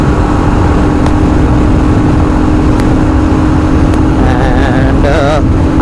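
Royal Enfield Scram 411 motorcycle running flat out in 5th gear at over 100 km/h, a steady loud engine drone buried in heavy wind roar, with a voice talking over it.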